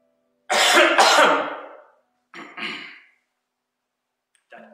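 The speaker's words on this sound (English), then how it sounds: "That COVID cough is not gonna give." A man coughs and clears his throat during a church sermon, two loud close rasping bursts followed by a softer cough and a faint trailing sound.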